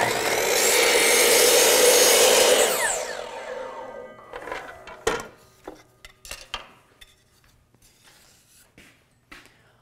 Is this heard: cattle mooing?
no